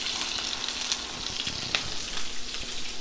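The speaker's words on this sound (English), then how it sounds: "we're going to take our bluefish and place it in the pan," Bluefish fillet laid skin side down sizzles in a pan of butter and avocado oil, a steady close crackle with a few sharper spits and pops, no speech.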